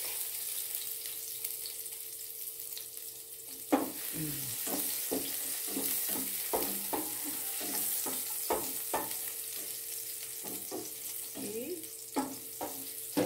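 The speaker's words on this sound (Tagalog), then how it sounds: "pag naamoy nyo na po yung amoy ng luya, sunod nyo na po yung inyong garlic." Ginger and garlic frying in oil give a soft steady sizzle at close range, broken by clinking spatula scrapes and stirring knocks in an irregular rhythm, without talking.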